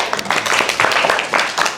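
Applause from a classroom audience during an economics lesson: a dense, steady patter of many hands clapping together for under two seconds, fairly close and loud, with no pause.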